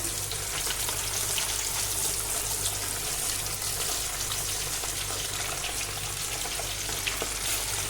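Fish pieces deep frying in hot oil give a steady, loud sizzle and bubbling hiss that runs without a break, with no voices over it.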